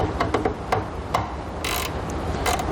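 A 5/16 socket wrench ratchets on taillight bolts on a towed vehicle, quick clicking bursts of the pawl in short irregular runs, close and clear.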